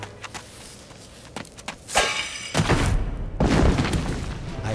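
An explosion in a mine level of the Puss in Boots video game: a few light taps, then a sharp blast followed by a heavy rumbling roar and a second booming surge that stays loud to the end.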